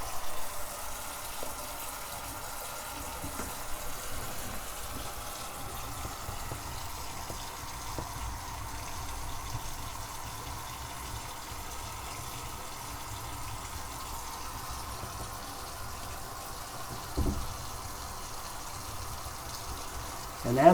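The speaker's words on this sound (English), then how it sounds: "let's go ahead and turn on the water" Water running from a faucet and draining through a newly installed flexible P-trap under a sink, a faint, steady, even rush with no pauses.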